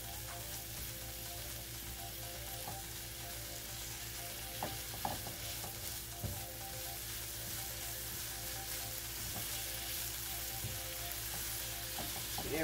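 Apples being stirred and coated with sugar in a pan for a dessert taco filling, with a steady sizzle and soft scraping stirs running throughout, close and moderately loud, no talking.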